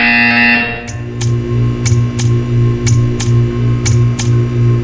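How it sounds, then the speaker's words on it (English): A harsh electronic buzzer from the video game Portal 2 sounds in a steady series of about eight evenly spaced pulses over a low droning hum, loud and close. "You will hear a buzzer. When you hear the buzzer, stare at the art."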